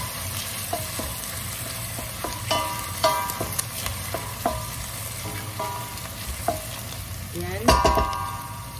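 Chopped onions sizzle and fry in oil for a chicken yoghurt dish, a steady crackle broken by repeated scraping stirs and one louder clatter, with a brief spoken word.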